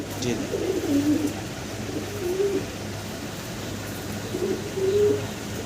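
Golla pigeons coo in soft, rolling phrases, twice, close by over a steady low hum and faint background noise.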